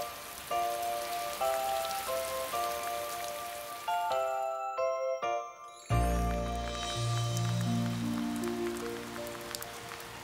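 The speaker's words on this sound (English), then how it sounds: "And now it's raining." Steady cartoon rain patters over a tinkling melody, then the music shifts to lower tones while the rainfall continues throughout.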